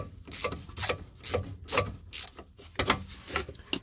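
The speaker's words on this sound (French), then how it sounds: "on va visser jusqu'à ce que ça touche le morceau du connecteur" Ratcheting clicks come from a screw being driven into an ABS sensor connector during rear ABS sensor replacement on a Ford Probe / MX-6, a close series of rhythmic mechanical turns and clicks.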